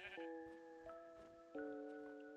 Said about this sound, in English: There's sheep here.